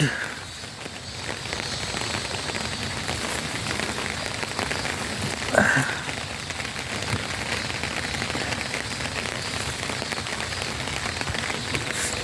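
Light rain falls steadily in Paju, Korea, a soft continuous patter on the ground with one brief nearby knock partway through; no voices.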